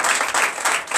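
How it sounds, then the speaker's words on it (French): A church congregation breaks into loud, dense applause during a Sunday worship service, swelling in waves for a moment with no speech over it. "donnez encore l'acclamation à Jésus"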